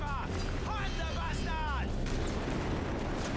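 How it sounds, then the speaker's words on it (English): Anti-tank cannon shots from a Company of Heroes 3 battle against infantry, heavy booms landing under steady talking, with whistling shell sounds in the first two seconds. "Every shot, every blast of the cannon, almost wiping out a squad member."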